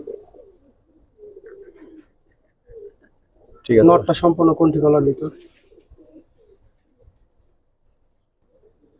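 Pigeons at a pigeon market coo in a loud, rich burst lasting a second or two midway, with quieter talk from people before and after.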